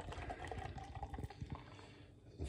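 A 500 ml can of 10% ABV beer is poured out into a glass, a soft continuous gurgling, splashing flow heard close but faint for a couple of seconds.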